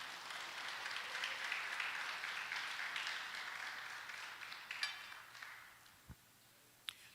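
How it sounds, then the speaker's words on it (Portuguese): Church congregation applauds with a dense, fairly faint wash of clapping that thins out and dies away, leaving a few scattered claps and small knocks near the end. "Aplauda a Jesus, porque Ele é bom."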